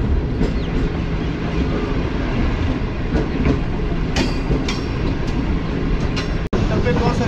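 Green Line Express running on the Lahore to Karachi line in Pakistan, heard from inside a carriage: a steady, loud rumble with rhythmic wheel clatter and occasional sharp clicks, unbroken for the whole stretch.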